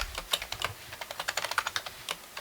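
Someone types a password on a computer keyboard, a quick run of light key clicks in an irregular rhythm, close and clear with no talk.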